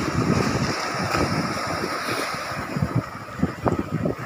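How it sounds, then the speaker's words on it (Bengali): Ocean surf rolling in at high tide on Banshbaria sea beach near a ferry ghat, a steady wash of waves with wind buffeting the microphone and a few louder breaking bursts toward the end. "জোয়ারের শব্দ শোনা যাচ্ছে"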